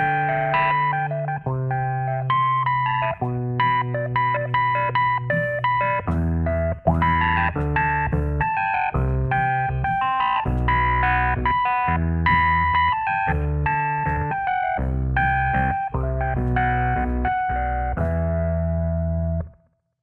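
Rhodes V8 electric piano played through a wah effect, a continuous run of sustained chords and notes with a sweeping, vocal-like filtered tone, loud and unbroken for about twenty seconds before stopping abruptly.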